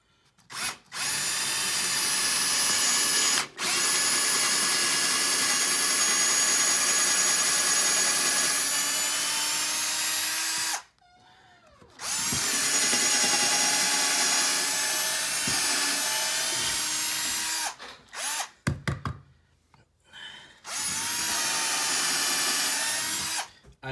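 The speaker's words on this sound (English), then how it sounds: "I'm making the hole deeper than the bolt." Power drill boring a hole into soft cedar for a bike floor anchor, loud close whine in long sustained runs broken by a few short pauses and brief stop-start bursts near the end.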